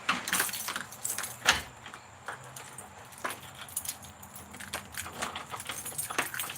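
Keys jangle in bursts of metallic clinks and rattles while a house door is being closed, close to the listener and without speech.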